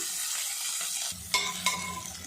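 Onion and green chili sauté in an oiled pan with a steady sizzle, broken by a couple of clinking stirs of a utensil against the pan. No one speaks.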